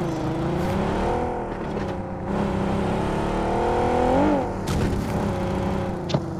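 Car engine in a video game hums and shifts pitch as it drives, a steady close motor drone with rising and falling revs and a few sharp clicks.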